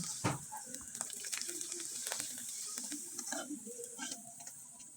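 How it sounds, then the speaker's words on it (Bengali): Sago pitha sizzles in hot oil, a steady bright crackle and hiss with scattered pops and small stirring clicks, close and fairly quiet, with no talking. "এবার আমি দুইটা পিঠা আপনাদের তেলে ভেজে দেখিয়ে দিচ্ছি"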